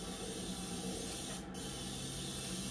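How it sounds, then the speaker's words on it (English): A virtual reality blasting and painting simulator gives a steady, loud airless paint spray hiss that runs continuously with only a brief dip midway, and no voices. "Now we're going to try out the airless spray."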